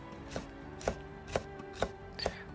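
A kitchen knife cuts vegetables into thin julienne strips for a pork, vegetable and egg dish, striking the cutting board five times in a steady, evenly spaced rhythm, each chop sharp and close.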